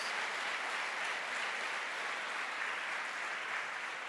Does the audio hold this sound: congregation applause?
yes